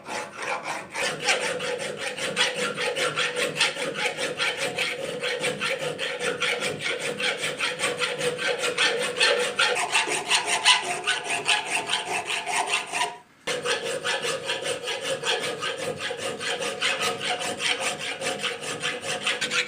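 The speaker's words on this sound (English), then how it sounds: "we'll start focusing on a bit more draw filing now, just so we can make sure we're nice and even all the way around" A file is drawn steadily along a blacksmith-forged round bar, producing a continuous rhythmic rasping scrape up close, broken by one brief pause.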